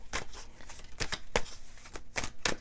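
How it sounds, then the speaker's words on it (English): Tarot cards are shuffled by hand in a series of sharp, close riffling bursts, about seven quick flutters spaced unevenly over a few seconds, with no talking. "let's shuffle some more"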